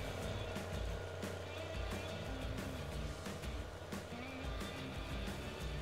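A farm vehicle engine drones steadily in Farming Simulator 19 as the machine drives across a field, a low continuous hum with faint mechanical clatter and no talk.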